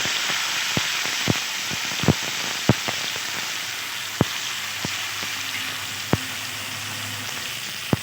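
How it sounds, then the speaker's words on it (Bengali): Taro stolons (kochur loti) fry in a pan of oil tempered with black cumin, producing a continuous close sizzle broken by a few sharp clicks and taps from the pan, with no voices. "এবার আমি কচুরলতিটা উপর থেকে দিয়ে দিচ্ছি।"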